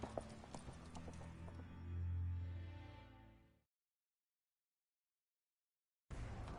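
A horse galloping in The Witcher video game, rhythmic clip-clop hoofbeats at close range with a swelling low rumble, cut off abruptly into silence before the hooves briefly return.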